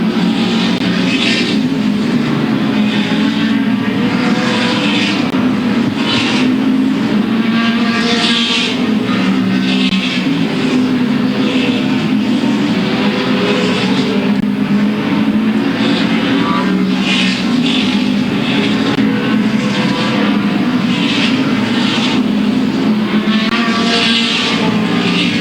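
Late model race cars roaring around Louisville Motor Speedway during the Bluegrass 300, a continuous loud engine drone from the pack that stays steady throughout, with a race announcer talking over it.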